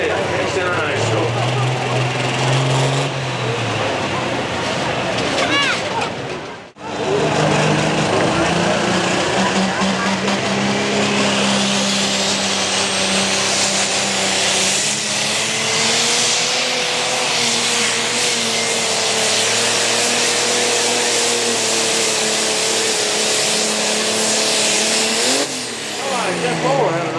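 A pulling tractor roars loudly at a tractor and truck pull in Hillsboro, a sustained high-revving engine that drops out briefly and then climbs again into a long strained howl, with a commentator talking over it.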